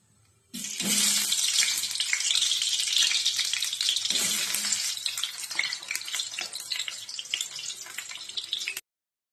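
Sliced onion hits a generous amount of hot oil for dried fish chutney, bursting into a loud, steady close sizzle that holds at full strength before cutting off abruptly.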